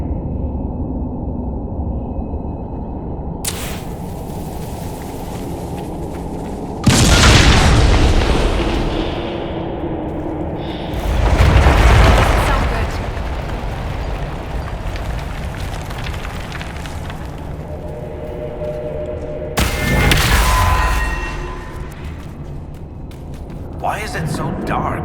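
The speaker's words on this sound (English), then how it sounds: "Make these things explode." Several booming explosions erupt in the Dragon Age Inquisition game inside dark dwarven ruins, each a loud burst trailing into rumble, spread across the scene over a steady background hum.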